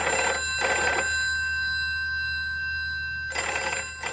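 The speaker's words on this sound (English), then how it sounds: "There's always a bloody telephone." An old-style telephone bell rings in an audio drama, two quick trilling bursts, a long pause, then another ring, loud and close against a low steady hum.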